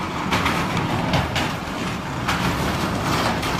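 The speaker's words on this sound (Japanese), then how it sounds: "深夜帯によくある貨物列車の通過音かと思ったら、 音だけで笑っちゃうんすけど、見て、屋根剥がれたの引きずってるし" A damaged truck dragging its torn-off roof along the road at night, a loud continuous rumbling scrape and clatter like a passing freight train, steady throughout.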